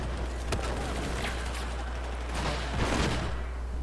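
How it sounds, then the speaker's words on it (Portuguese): Gunfire in Battlefield 4 hardcore mode, a few sharp shots standing out over a steady low engine-like rumble, moderately loud throughout. "Um tiro só nesse vagabundo."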